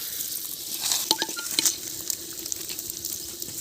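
Chicken curry in a clay pot, lifted off the stove, is stirred with scraping and soft clattering strokes over a faint sizzle, fairly close and with no voices.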